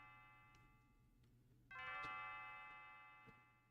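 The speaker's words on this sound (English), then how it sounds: "Mysterious bell starts ringing." A mysterious bell in a video game rings out suddenly as a single bright chime that sustains and slowly fades, over a quiet, low background hum.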